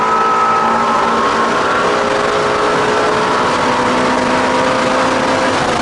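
A steady, loud engine drone holds throughout, with rising whining tones as a Shelby GT350R accelerates at speed up the main straight at Road America.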